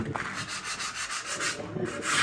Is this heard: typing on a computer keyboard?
no